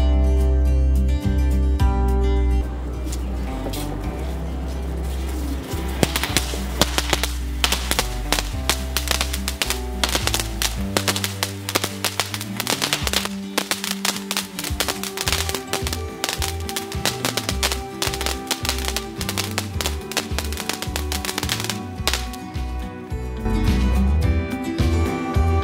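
A Rajkala Fireworks tricolour fountain burning, with a dense run of sharp crackling pops and taps over a steady roar that carries on for a long stretch at close range.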